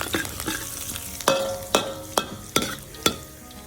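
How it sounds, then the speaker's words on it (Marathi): Green chilli, red chilli, cumin and garlic sautéed for a dal tadka, with a soft sizzle under a run of sharp, evenly spaced spoon strikes against the pan, loud and close, no speech. "त्यामध्ये हिरवी मिरची, लाल मिरची, जिरं आणि लसूण यांना छान परतवून घेऊ."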